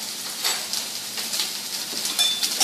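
Steady sizzle of sauce frying in a pan for Hawaiian pork chops, with a spoon stirring and scraping at intervals, close and continuous, no talking.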